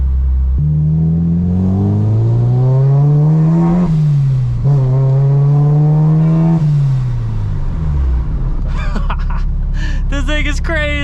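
A supercharged Honda K20 engine in an Acura RSX with a Kraftwerks supercharger roars loudly, rising and falling through its revs. Near the end it gives way to a sharp, chirping flutter from the blow-off valve.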